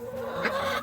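Hens cluck steadily inside a chicken coop with nesting boxes on an autumn homestead, a close, busy murmur of several birds.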